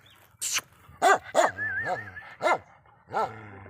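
Several sharp Bakarwal dog barks ring out close by in an uneven series, with a brief growl between them and no talking.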